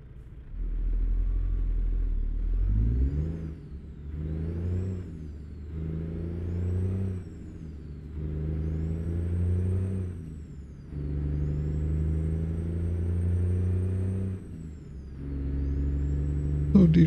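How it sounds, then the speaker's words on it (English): A Detroit Series 60 diesel engine in a tuned Kenworth W900 truck in American Truck Simulator drones loud and close, climbing in pitch through several gear shifts with brief drops between, and a short hiss of air near the end. "Detroit Series 60 got a little bit of torque to it"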